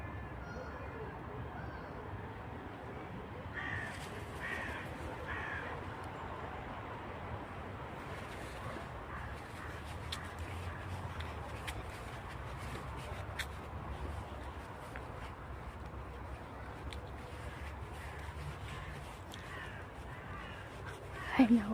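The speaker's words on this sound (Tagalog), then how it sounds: "Beautiful forest in Paris, France with wild birds bird." Wild birds in a Paris forest park, mostly crows cawing repeatedly from various distances over a steady outdoor background hiss.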